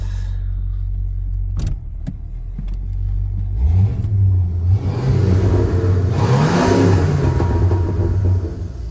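A 1985 Mercury Marquis's 5.8-litre 351 Windsor V8 idles with a low rumble, then revs up in a couple of rising, roaring bursts before settling back, close and loud.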